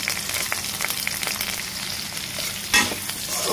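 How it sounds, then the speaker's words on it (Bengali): Onions and green chilies frying with prawns in a pan for a turnip dish, giving a steady close sizzle with a few soft utensil scrapes and a brief louder burst near the end. "এখন এর ভেতর পেঁয়াজ কুচি, মরিচ দিয়ে দেবো, কাঁচা মরিচ"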